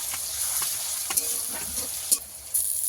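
Garlic paste frying with onions in a pan for a country chicken curry, a steady close hiss of sizzling with a few sharp scraping stirs cutting through, no talking.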